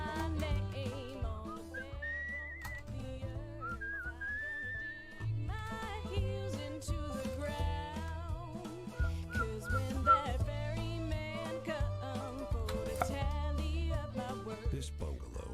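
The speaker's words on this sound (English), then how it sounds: "I can whistle." A person whistling a wandering melody in clear sustained pitched notes, set against a background of music with steady low beats.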